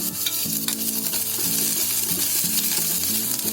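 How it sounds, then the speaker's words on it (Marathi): Chopped garlic and finely cut green chilli frying in a spoonful of oil in a kadai, a steady loud sizzle with scraping stir sounds layered over low tonal background music, no voices. "हे 4 पाकळे लसूणचे घेतले बारीक करून ते टाकते. 2 हिरवी मिरची बारीक केली आहे."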